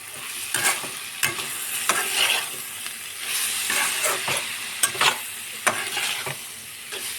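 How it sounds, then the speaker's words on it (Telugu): Close sizzling of spices and chili powder in a frying pan with repeated scraping strokes of a spoon stirring, steady and alone without talk. "బాగా కలిపెట్టుకోవాలి"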